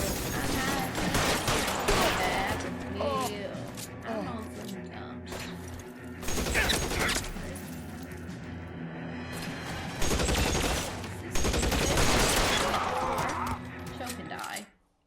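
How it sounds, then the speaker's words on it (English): Gunfire from a crime-era shootout in the video game L.A. Noire: bursts of sharp shots and crashing impacts come in clusters across the clip over a steady game soundscape, with a voice talking at times. "He was shooting at the damn floor."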